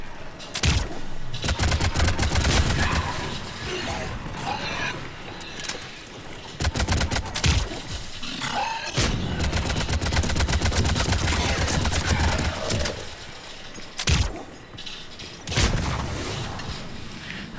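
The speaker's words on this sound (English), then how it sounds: "That rocket launcher I've got there is called Carnage." The Carnage rocket launcher fires in Mass Effect 3 multiplayer on Xbox 360, loud sharp blasts and booming impacts mixed with rapid gunfire bursts, separated by brief quieter gaps.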